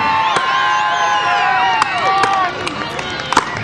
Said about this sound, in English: Pick out a favorite. Cheer on.